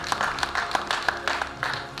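Audience applause at an annual lecture and award presentation, brief scattered clapping with uneven individual claps for about two seconds.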